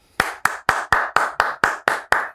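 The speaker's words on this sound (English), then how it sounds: "I do the clapping just because like, I try to give it a big intro" A podcast host claps his hands to introduce a guest: nine sharp, evenly spaced claps, close and loud, about four per second with no talking.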